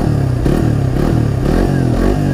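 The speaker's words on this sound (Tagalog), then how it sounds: "Tapos ang maririnig mo lang yung tunog talaga ng engine." Suzuki GSX-S150 motorcycle engine running loud and close with an exposed exhaust, a steady throbbing, pulsing burble with slight throttle swells and mechanical clatter.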